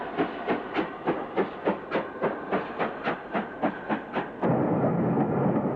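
British steam locomotive 42611 chuffs into a station with about sixteen rhythmic, evenly spaced exhaust beats, close and loud, then the beats give way to a continuous steam hiss.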